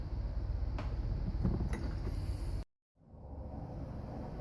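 A 1-inch wrench tightening a part on a 1955 Oldsmobile Hydra-Matic transmission being rebuilt, giving close, quiet metallic ratcheting and creaking clicks for a couple of seconds before falling silent.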